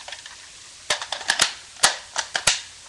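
An airsoft magazine being wiggled into an M4-style magwell gives sharp plastic clacks and knocks, several quick close hits in an irregular burst.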